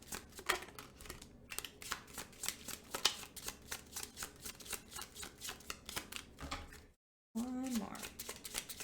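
A tarot card deck is shuffled by hand in quick, repeated riffling bursts, close and fairly quiet, with a voice speaking briefly near the end.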